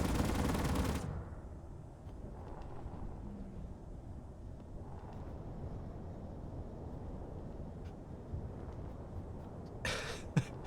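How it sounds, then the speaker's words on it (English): Video game gunfire: a loud distant burst at the start, then a low rumbling, crackling backdrop with faint scattered shots and a sharp burst near the end. "just wait for the gunfire to stop."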